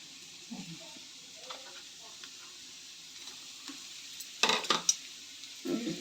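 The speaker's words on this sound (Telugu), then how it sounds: "ఇప్పుడు ఆ ప్రాన్స్ వేసేసుకోవడమే. కాసేపు వేగిన తర్వాత అప్పుడు మసాలా అన్నీ బాగా పట్టేస్తాయి" Prawns frying in a masala for prawn curry give a steady, fairly quiet sizzle, with a few louder clinks and scrapes of a utensil stirring the pan near the end.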